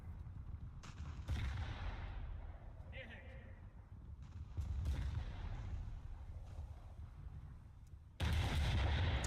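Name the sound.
naval artillery fire in War Thunder video game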